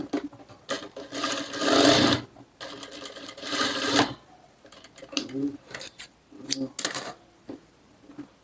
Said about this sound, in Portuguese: Aqui eu vou fazer uma costura até o ponto do corte aqui.